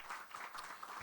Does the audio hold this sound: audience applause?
yes